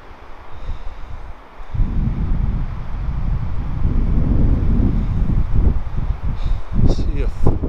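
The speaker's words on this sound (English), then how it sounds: "I'm gonna try to give you an idea of how strong the winds can get up here" Strong Chinook wind gusts in the hills above Boulder, Colorado, roar and buffet the microphone, starting softer, then surging into sustained loud rushing with irregular gusty pulses; brief faint voice sounds appear near the end.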